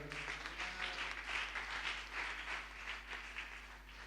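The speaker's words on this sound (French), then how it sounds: "On peut acclamer le Seigneur" A church congregation applauding in praise, a steady sustained wash of many hands clapping at moderate distance, continuous and even for the whole stretch with faint background hum.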